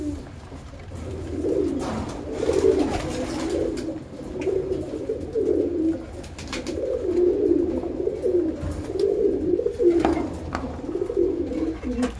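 Pigeons cooing continuously at close range while being fed mixed food, a rolling chorus of overlapping low coos with scattered faint knocks and rustles, no talking.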